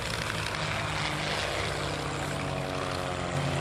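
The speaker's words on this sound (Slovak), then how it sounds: "Zoltán Vereš štartuje na vykonanie svojej letovej ukážky na lietadle MXS." An MXS aerobatic propeller airplane at an airshow gives off a constant, rough engine drone with a buzzing propeller note, steady and moderately distant, with no talk over it.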